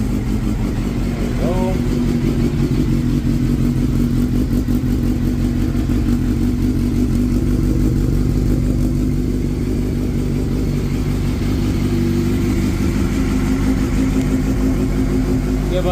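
Acura Type S car engine running and warming up after repair, a loud steady idle with a dense low rumble holding throughout with no pauses.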